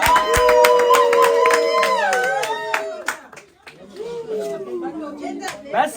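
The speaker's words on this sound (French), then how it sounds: "Est-ce qu'on peut encore applaudir pour le couple?" Guests at a customary wedding in Tremblay-en-France clap for the couple, a dense burst of hand claps with crowd chatter, fading after about three seconds while voices continue.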